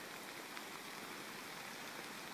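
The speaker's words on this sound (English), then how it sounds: "Oh, it's starting to rain harder." Steady, dense hiss of rain falling hard by a remote lake, with no voices, an even wash of drops that holds constant throughout.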